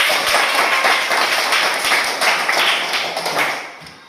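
Classroom applause from schoolchildren during a lesson, a short burst of brisk, uneven clapping with sharp taps that thins out toward the end.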